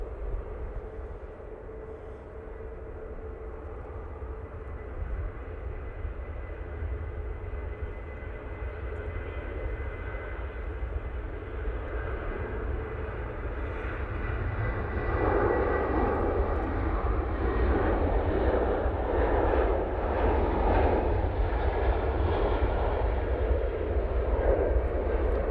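A Jet2 airliner passes at Manchester Airport, its engine roar steady and broad, swelling louder and richer in the second half as it draws nearer, with no talk over it.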